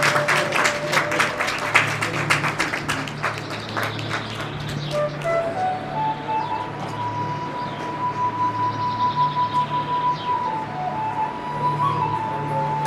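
Audience applause at an honouring ceremony during a yagya and elders' tribute, a dense burst of clapping in the opening seconds that thins out, with a sustained tone and steady hum in the background.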